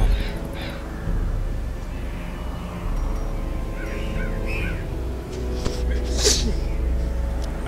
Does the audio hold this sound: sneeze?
yes